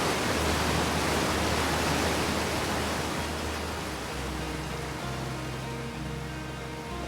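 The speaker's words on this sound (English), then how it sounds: "the waterfall is so loud." A loud waterfall in the video game Outer Wilds gives off a thick, constant roaring hiss, easing slightly over time with a low hum underneath.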